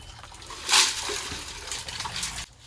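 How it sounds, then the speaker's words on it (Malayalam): Water sloshes and splashes briefly as clam meat is swished around by hand in a container of water, a short burst of wet rinsing sounds. "നമ്മൾ ഒരുപാട് തവണ ഇങ്ങനെ വെള്ളം മാറ്റി കഴുകിക്കൊണ്ടേയിരിക്കും അത് നല്ല വൃത്തിയാകുന്നത് വരെ"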